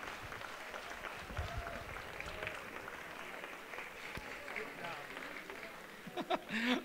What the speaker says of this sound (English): Michael Harville, big round of applause.